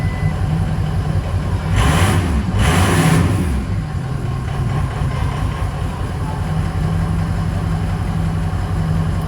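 Ford 6.0 Powerstroke diesel engine firing after cranking, revving up briefly and then settling into a steady, loud, close idle with no voices.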